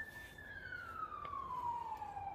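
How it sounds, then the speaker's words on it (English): A single emergency siren tone sweeps slowly downward in pitch, steady and moderately distant, over a low rumble of background noise. "You hear the sirens, man."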